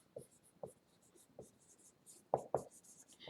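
A marker writes on a board during a math lesson, making short, squeaky strokes in a few separate bursts with two sharper squeaks near the end, close and fairly quiet, with no talking.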